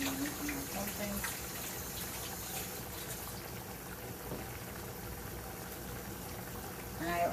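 Water runs steadily from a kitchen tap as hands are rinsed under it, a continuous close hiss with a slight swell near the end.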